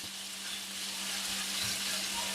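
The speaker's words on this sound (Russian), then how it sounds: "Пока возьмем фарш, будем его жарить." Ground beef browns steadily in a pan, a continuous close hiss and sizzle with no talk over it.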